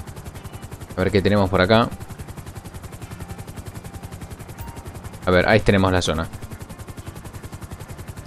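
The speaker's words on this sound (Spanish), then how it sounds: "Vamos a investigar con el helicóptero." Police helicopter rotor chopping in GTA V with the LSPDFR mod, a steady rapid thud running throughout at moderate level, with someone talking over it in two short bursts.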